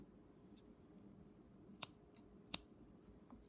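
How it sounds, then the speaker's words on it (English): Two crisp, quiet snips of scissors cutting through a length of yarn in a calm indoor setting, spaced under a second apart with near silence around them. "Okay, so I cut my yarn."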